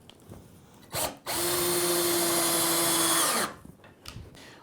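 A cordless drill-driver in drill mode at maximum speed whirs steadily for about two seconds at a constant pitch, then winds down, with brief handling clicks before and after.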